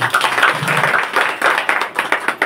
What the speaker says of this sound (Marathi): त्यांच्याबद्दल टाळ्या वाजवा सर्वजण.